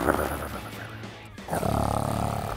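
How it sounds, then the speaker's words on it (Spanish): Cartoon baby dinosaurs snore loudly in a children's animation, giving deep, rough, continuous rumbling snores over a musical background, with a brief lull midway before the snoring swells louder again. "¡Oye, ellos roncan muy feo!"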